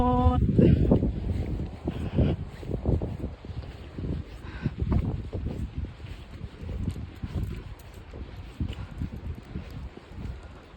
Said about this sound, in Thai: วันนี้อากาศดีมาก ลมบอยๆ